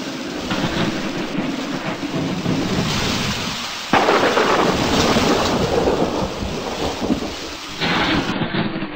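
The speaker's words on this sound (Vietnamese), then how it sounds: "mưa ào ào như đút nước." Heavy first-of-season rain pours down in a steady, dense roar close by, with a rumble of thunder folded into the continuous downpour.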